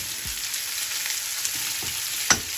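Garlic frying in a pan alongside salmon gives a steady, close sizzle with a soft crackle throughout, plus a few light taps and one sharper clink of a utensil near the end.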